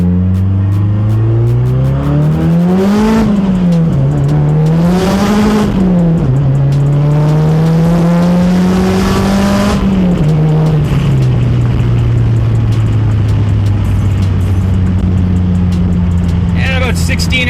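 A Mazdaspeed 3 fitted with a BNR S5 turbo accelerates hard in first gear, the engine note climbing steeply and loud before shifting down into a steadier drone, with brief mechanical clicks and a voice talking partway through.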